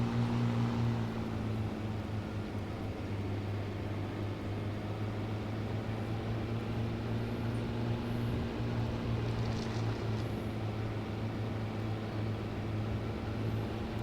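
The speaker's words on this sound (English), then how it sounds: "That sounds pretty close to the diesel engines for real" Diesel truck engine in ARMA 3 S.O.G. Prairie Fire, a steady low idling drone with a constant hum that holds level throughout, heard alone with no talk.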